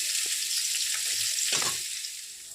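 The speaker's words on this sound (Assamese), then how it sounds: "এফালে মাছ ভাজি আছোঁ আৰু আনফালে মই বিন গাজৰৰ ভাজিখনো বহাই দিলোঁ।" Fish frying in a wok next to a bean and carrot stir-fry gives a steady, close, hissing sizzle with small crackles and no talking.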